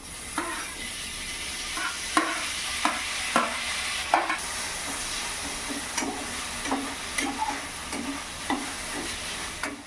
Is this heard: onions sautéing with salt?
yes